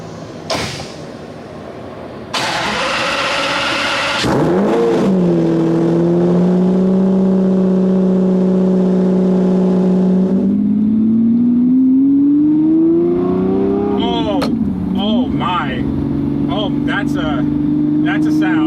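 A Lamborghini movie car from Fast & Furious revs hard while driving off, its loud engine note rising and falling through gear changes close to the microphone, with bursts of mechanical noise early on.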